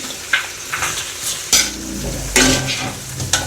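Beef back ribs and browned garlic hit a hot pan and are stirred, giving a loud sizzle with scraping utensil strokes and clinks against the pan, close and with no voices.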